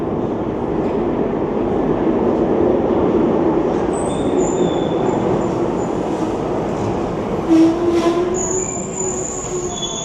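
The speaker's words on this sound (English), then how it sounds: "Okay, let's stop and wait for the train." A Budapest metro train rumbles steadily into an underground station, with a low continuous roar and occasional high wheel squeals near the end.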